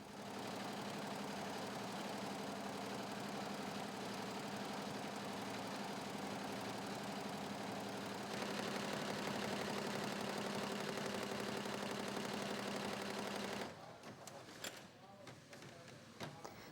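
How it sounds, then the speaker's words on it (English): A 20-head embroidery machine stitches logos onto fabric, giving a steady, fairly quiet mechanical whir and rapid needle chatter that intensifies midway, then breaks into irregular clatter and knocks. "This 20-head embroidery machine sews logos onto pieces of BCD material."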